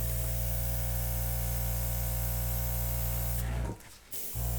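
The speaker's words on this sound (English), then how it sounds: "I'm just going to blow it out with the airbrush" Compressed air hisses steadily from an airbrush used to blow paint across a swipe-technique surface, a constant close broadband rush that cuts off near the end with a brief gap.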